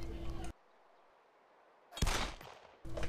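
Glock 17 9mm pistol shots in DayZ, loud sharp reports in short clusters separated by stretches of near silence.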